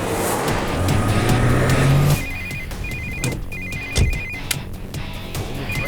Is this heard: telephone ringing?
yes